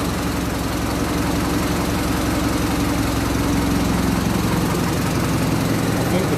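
A Land Rover Series 3 with the 2.25 diesel engine running just after its first start, a steady, loud, even clatter held throughout with no talk.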